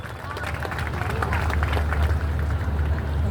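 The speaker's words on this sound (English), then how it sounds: "please give a big round of applause" A crowd at a university Sir Syed Day celebration gives a round of applause, dense steady clapping mixed with hall murmur and a low rumble, sustained throughout.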